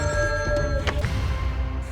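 Telephone rings in a short burst, a bright electronic tone heard close and clear for about a second before fading, with low room hum beneath.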